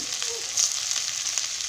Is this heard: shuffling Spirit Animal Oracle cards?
no